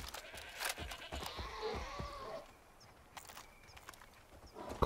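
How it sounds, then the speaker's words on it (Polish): Goat in the video game Far Cry 5, a few short bleating and hoof-like sounds over a busy game soundscape, fairly faint, with no talk. "Koza."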